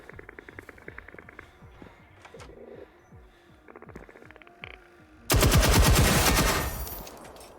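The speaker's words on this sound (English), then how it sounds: "Give it a taste of M60. Machine gun fire." M60 machine gun fire in Generation Zero: scattered rapid shots and clicks give way to a loud, dense sustained burst that rattles on for about two seconds before tapering off.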